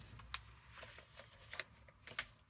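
Paper journal page folded over by hand during a crafting session, giving a few soft, brief crinkles and rustles at a moderate distance with no talking.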